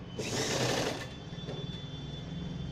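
A sewing machine stitches along the folded quarter-inch hem of a party-wear gown, a steady close motor whir with a loud burst at the start that eases into a continuous hum.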